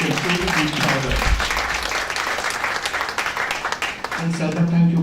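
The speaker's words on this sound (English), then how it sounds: "Friends, may we have a round of applause for this versatile and talented young writer" An audience at a book launch claps in sustained, dense applause, loud and steady throughout, with a voice briefly heard at the start and end.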